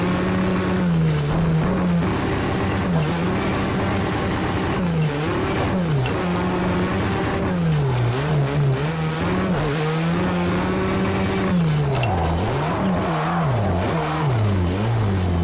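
A race car engine in a sim racing game revs continuously, rising and falling with shifts and corners, loud and unbroken for the whole stretch, with no voices.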